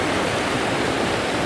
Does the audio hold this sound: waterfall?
yes